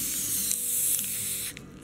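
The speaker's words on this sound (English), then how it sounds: "I'm spraying it with some edible gold spray" Edible gold spray hisses continuously from an aerosol can onto white chocolate balls, a close, steady spray that cuts off sharply near the end.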